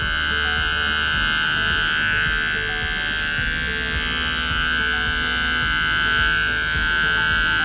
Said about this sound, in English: with the edge of our clipper is coming along and clipping out his little halos